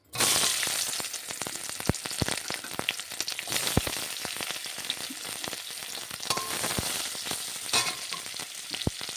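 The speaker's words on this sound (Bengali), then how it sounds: "এবারে এর মধ্যে আলু আর পেঁয়াজটা ভেজে নিতে হবে" Potatoes and onions fry in hot oil, giving a dense, continuous sizzle with crackles and scraping stirs throughout. The sound is close and fairly loud, and no one talks over it.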